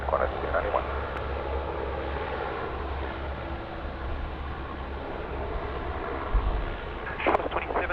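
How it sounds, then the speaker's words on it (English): A Qantas airliner rolls for takeoff on runway 16 right at Sydney Airport, a steady, broad jet roar held at a distance throughout, with faint radio voices crackling near the end. "Clear for takeoff, runway 16 right, Qantas 291."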